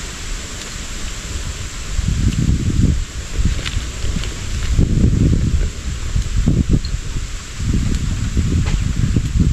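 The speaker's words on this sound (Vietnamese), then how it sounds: "Gió mạnh quá trời hết rồi." Strong wind gusts buffet a riverside spot, surging and fading in several rough, rumbling waves with a rustling edge. No voices are heard.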